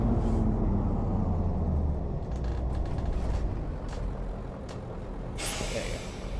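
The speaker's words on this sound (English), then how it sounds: "slam on the brakes" A Mercedes-Benz O303 bus in the OMSI 2 driving simulator brakes hard with a rumbling roll that fades down, a few creaks and clunks, then a sharp hiss of released air brakes near the end.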